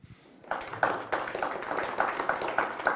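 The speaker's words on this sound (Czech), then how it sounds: "Já vás poprosím o potlesk pro naše hosty." A small audience applauds the guests at a Prague event about the Museum of 20th-Century Memory. After a quiet half-second, scattered, moderately loud claps start and continue unevenly to the end, with no talking over them.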